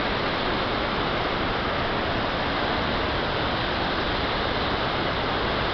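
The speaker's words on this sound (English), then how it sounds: "let's walk closer to the waterfall." A waterfall in Porto União, Brazil, on a hot summer day, producing a loud, continuous broadband rush of falling water that fills the scene without pause, with no voices over it.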